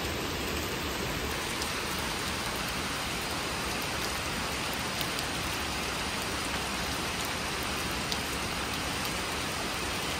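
Steady, dense rain falls without pause on a hillside farm in Ghanpokhara, Lamjung, Nepal, a constant even hiss with no speech and no break.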